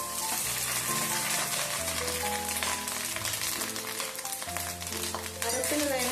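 Grated coconut and dried red chillies fry in a pan for a Kerala papaya erissery, giving a steady, dense sizzle that carries on throughout at close range, with a low musical background beneath it.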